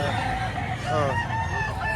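A rooster at a market in Lipa, Batangas gives a crow in the middle, set against a steady hubbub of crowd chatter and other birds.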